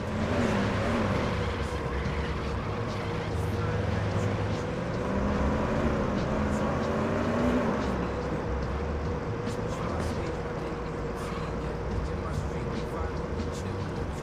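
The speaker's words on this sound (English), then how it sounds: "some cars that will be driving like this one" A car driving by in a police simulator video game, heard as a steady, continuous engine drone with a slowly shifting pitch that holds level throughout.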